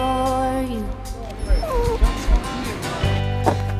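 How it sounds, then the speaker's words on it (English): A dropped litter of puppies whimpering and yipping up close, high thin cries and short yelps overlapping, with a voice speaking among them against soft background music. "There's a litter of puppies that somebody dropped."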